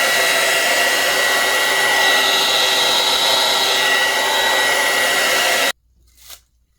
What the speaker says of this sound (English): I use a combination of the heat gun and my alcohol spray to get rid of any bubbles